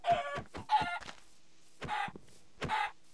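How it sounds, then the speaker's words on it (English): Minecraft chicken clucking in short bursts, four quick clucks close together then two more after a pause, fairly near with nothing else around. "Ooh, chicken."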